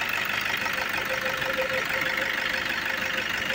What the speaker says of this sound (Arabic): واش رايكم في الزفه تاع المحرك